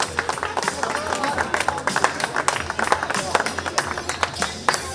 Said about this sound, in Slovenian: En aplavz za najbolj vzdržljive in najhitrejše punce